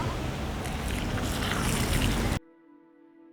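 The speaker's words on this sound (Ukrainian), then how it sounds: "Ми закладаємо на дно тирсу, заливаємо водою" Water poured from a container onto sawdust in the bottom of a dug pit for growing mushrooms: a steady, loud, close rushing splash that runs unbroken for over two seconds and then cuts off abruptly.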